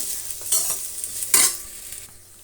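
Bitter gourd for a gravy stirred and frying in a pan, with two sharp scraping stir strokes over a steady low sizzle, nearby and fairly loud, no voices.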